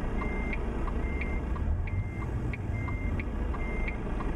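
A truck backing a long trailer into place in American Truck Simulator gives a steady string of regularly spaced reversing beeps over a continuous engine rumble, close and fairly loud, with no talking.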